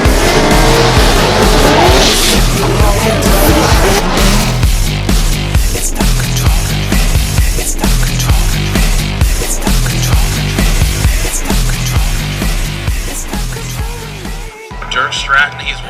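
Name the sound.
Chevrolet Corvette drift car warming up tires, tire squeal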